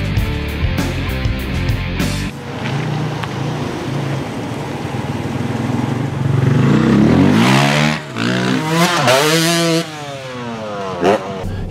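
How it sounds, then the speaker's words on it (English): A 2013 Dodge Durango or Chevy Traverse SUV engine revving on a muddy off-road drive, a loud rumbling drone that swells and surges, with rattling clatter and a rising rev near the end. "The engine sounds great."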